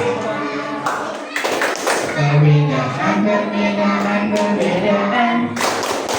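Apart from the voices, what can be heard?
children doing a rhythmic clapping chant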